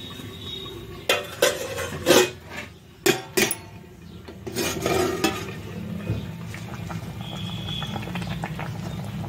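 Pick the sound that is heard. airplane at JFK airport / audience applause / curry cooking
curry cooking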